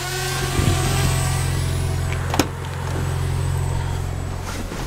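BMW M3 car driving, a loud steady engine hum and road noise holding a constant drone, with a brief louder knock partway through.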